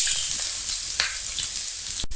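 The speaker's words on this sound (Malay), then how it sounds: "Okay, so sekarang kita nak tumiskan kita punya inti kita. Dan kita saute. This one is Holland onion," Holland onion sautéing in a hot pan, a loud, steady close sizzle with faint stirring ticks throughout and no voice, ending in a brief break.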